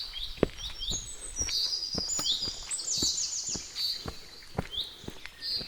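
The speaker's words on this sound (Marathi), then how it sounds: "वेगवेगळे पक्षी ओरडत आहेत" Assorted forest birds chirp and whistle in bright, overlapping calls at a moderate distance, with soft footsteps or patter thumping underneath at irregular intervals.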